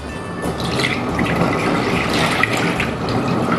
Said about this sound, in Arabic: هحط ميه الاول تغلي.